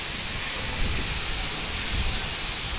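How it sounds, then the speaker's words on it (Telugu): Strong wind before rain roars as a constant, loud hiss and rush, with low gusty rumbles buffeting the microphone and no voices. "చూసారా గాలి ఇలా వస్తున్నాయో"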